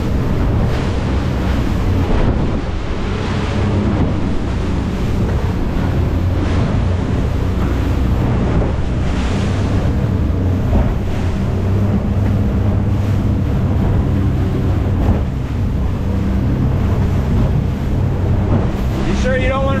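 Rough seas heading toward the Gulf Stream on a tuna fishing trip. Waves crash and wind buffets the microphone aboard a boat in continuous heavy noise, with voices partly under it.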